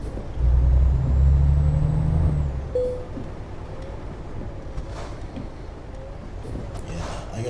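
A truck rumbles low and close in Euro Truck Simulator 2 as it is parked, the engine settling to a steady idle after a couple of seconds, with a brief high tone partway through.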